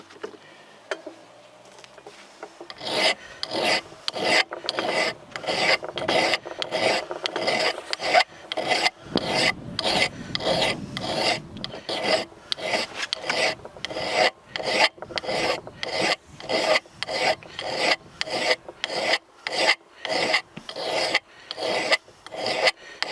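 A fine file rasps rhythmically along a hatchet edge, with dozens of quick, even strokes close up and loud that follow a short quiet start, steady and unaccompanied by talk.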